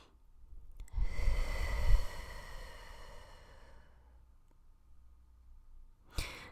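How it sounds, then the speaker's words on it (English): A single deep breath, drawn in as a long airy inhale, then a slower fading exhale, close and quiet with no talking, followed by a brief click. "take a deep breath with me"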